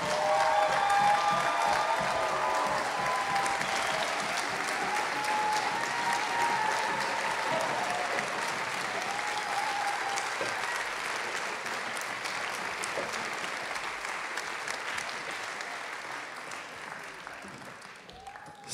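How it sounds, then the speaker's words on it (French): A large audience at a year-end children's orchestra concert breaks into sustained, dense applause that fills the room and slowly tapers off over nearly twenty seconds. "un tonnerre d'applaudissements pour nos référents"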